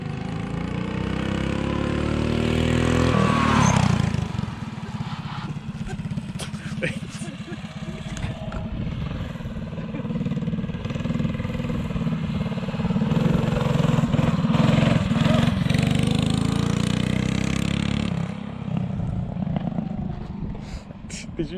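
A mini bike engine revs at an outdoor go-kart and mini bike outing, a loud buzzing drone that swells as the bike passes close by, fades, then rises again, with people talking nearby.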